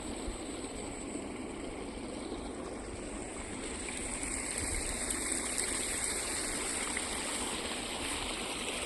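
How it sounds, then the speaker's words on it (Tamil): Irrigation water flows steadily into a paddy field in a farming area, a continuous, even rushing and gurgling wash with no pauses, moderately loud and close, with no voices. "சேலுக்கு தண்ணி பாஞ்சிட்ருக்குதுங்க"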